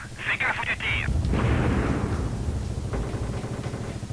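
Gunfire and blasts in the helicopter combat video game Nuclear Strike: a loud booming explosion with a rumbling decay, preceded by whistling weapon sounds, with game effects continuing underneath.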